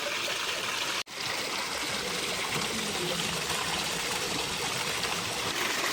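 Water from the Panchuni mountain spring spout, swollen by monsoon rain, pours in a steady, close, continuous splash and gurgle, interrupted by a brief dropout near the start.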